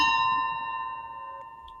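A single hand bell is struck to open a Rotary Club meeting, its bright ringing tone sustained and slowly fading over a low background hum.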